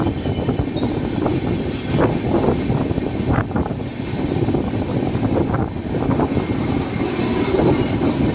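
A train with two WFE4 locomotives rumbles past close by in India, a steady heavy roar of wheels and cars with faint clatter and some wind buffeting throughout.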